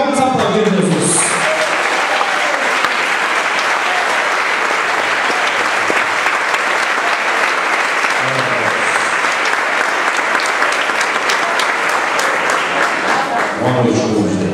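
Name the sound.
congregation standing and applauding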